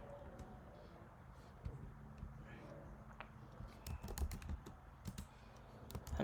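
Someone types a password on a computer keyboard at a desk while working in a terminal, with clusters of soft key clicks, the denser bursts coming near the end over a low steady room hum.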